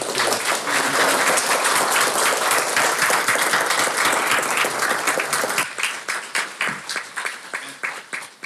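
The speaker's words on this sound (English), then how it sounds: "Let's give it a round of applause." A university tech day audience gives a full round of applause, dense and loud for several seconds before thinning into scattered individual claps that fade out.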